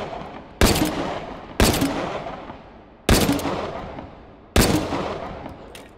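Four loud, close Browning pistol shots in the virtual reality shooting game H3VR, each a sharp crack with a long echoing decay, spaced irregularly about a second or more apart, no talk.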